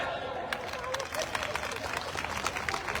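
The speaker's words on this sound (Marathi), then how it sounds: "या आमच्या सर्व माता भगिनींसाठी एकदा जोरदार टाळ्या." A crowd at an outdoor Shiv Sena election rally applauds briskly, dense steady clapping heard from a distance over a faint background murmur.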